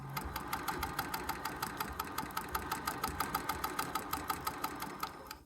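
A vintage sewing machine fitted with a zipper foot stitches bias tape, its needle pounding out a steady, fast rhythm of close, even mechanical beats that stop abruptly near the end.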